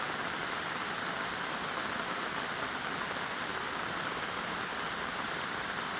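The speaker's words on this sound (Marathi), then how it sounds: "मुंबई आणि ठाण्यामध्ये सकाळपासून पावसाची संततधार आहे" Heavy monsoon rain in Mumbai pours without a break, a constant, uniform roar of water with nothing else heard.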